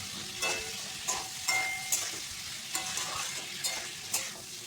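Cumin and chili powder paste sizzles in a pan for a Bata fish curry while a spatula scrapes and stirs it in a regular rhythm, a soft, close frying hiss broken by repeated scraping strokes, with no talking.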